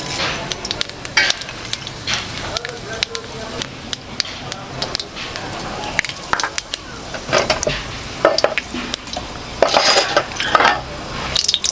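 Dried chili and panch phoron spices sizzle in hot oil in a pan, with steady frying crackle, scattered stirring and utensil clatter, while a person talks over it nearby.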